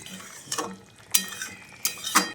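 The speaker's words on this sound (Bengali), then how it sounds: "চিনিটা দিয়ে আরও একবার চিকেনটাকে ভালো করে নেড়েচেড়ে মিশিয়ে দিচ্ছি।" A spoon stirs and scrapes chicken curry in a pan after sugar is added, giving a few uneven scraping swishes over a faint sizzle, with no talking.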